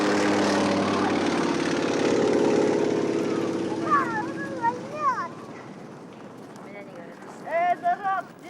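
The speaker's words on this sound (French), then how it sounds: "Déjà l'Antonov décolle, abandonnant la tribu à la solitude de la toundra." An Antonov aircraft takes off from the tundra, its broad engine roar steady for several seconds and then fading, while brief chirping sounds rise over the quieter tail.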